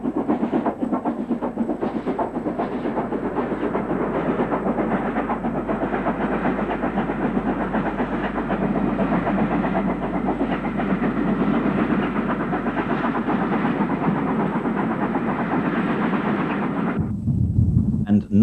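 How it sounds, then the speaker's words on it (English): Steam locomotive A3 No. 4472 Flying Scotsman, newly repainted, hauls a special train past, giving a steady loud rumble and chuffing with clattering wheels for about seventeen seconds before cutting off abruptly. "Here we see the newly repainted A3 number 4472, the famous Flying Scotsman,"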